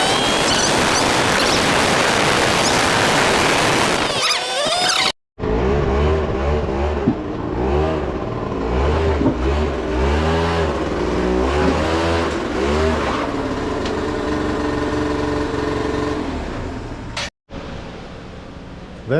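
A 2008 Yamaha Zuma 50 two-stroke scooter engine on a flat ground test buzzes loudly, with wind-blasted noise first, then a ringing drone rising and falling through repeated revs, broken by two brief cuts.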